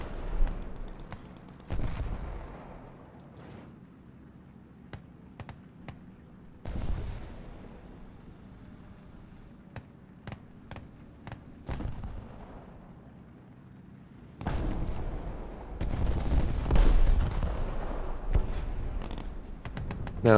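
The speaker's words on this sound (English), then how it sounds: "get my second shot off and take him out" Tank cannon fire in the War Thunder video game during a city fight, with several loud booming shots spaced seconds apart, each followed by rumbling decay and engine noise between blasts.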